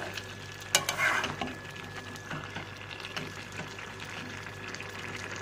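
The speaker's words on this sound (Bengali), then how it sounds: "অল্প অল্প জল দিয়ে দিয়ে দিয়ে দিয়ে কষাচ্ছি" Masala stir-frying in a pan with small splashes of water, a soft steady sizzle with scraping stirs and a brief louder hiss early on, fairly faint and close.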